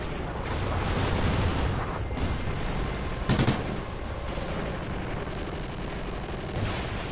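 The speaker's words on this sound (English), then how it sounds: "Friendly Trinity rocket inbound." A video-game battlefield fills with loud, continuous rumbling gunfire and blasts, with a sharp explosive burst standing out near the middle, as if from a rocket strike.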